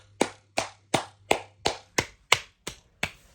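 Hand claps come in a steady, evenly spaced series of about nine sharp, loud, close-up claps, each with a quick decay. No talking is heard between them.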